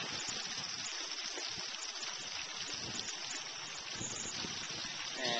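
Heavy water spray pours across roof shingles and a leaf guard, a steady broad hiss and splash that holds constant for several seconds with no voices.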